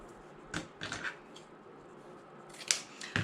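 A few crisp scissor snips cutting ribbon for an autumn wreath, isolated close cuts with quiet pauses between them.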